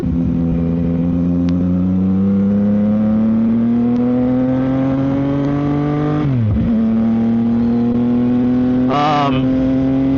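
A 675 motorcycle engine running up close before a ride, its loud steady drone climbing gradually in pitch, then dropping sharply and giving another short throttle blip near the end.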